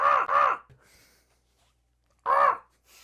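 A person's voice mimics a crow, giving harsh caw-like calls: two quick loud caws, a pause of near silence, then a third caw, all close and loud.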